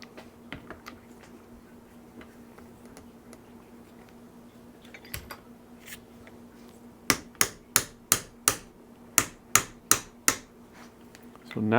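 A socket is hammered to drive in a crank seal on a Yamaha 250 two-stroke engine rebuild: quiet workshop handling, then about nine sharp, evenly spaced metallic strikes close up.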